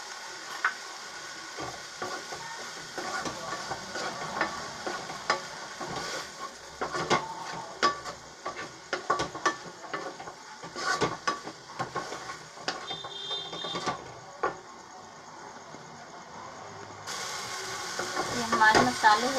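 Spices fry in a pan for dry paneer with capsicum (shimla mirch), a soft low sizzle broken by irregular scraping and tapping as a spoon stirs them.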